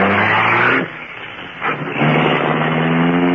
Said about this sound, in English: The great car roared into life.